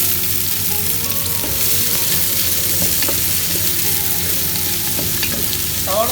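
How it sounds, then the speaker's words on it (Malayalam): Garlic and sliced onion fry in oil in a pan, a steady close sizzle with popping crackles and stirring scrapes throughout, loud and without talk. "ഗാർലിക് ഒന്ന് മൂപ്പായതിന് ശേഷം നമുക്കിതിലേക്ക് കട്ട് ചെയ്ത് വെച്ച സവാള നമുക്കിതിലേക്ക് ചേർത്ത് കൊടുക്കാം."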